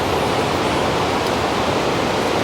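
Steady broadband roar of water rushing down a salmon fish ladder beside waterfalls near Mt. Rainier, loud and continuous with no voices.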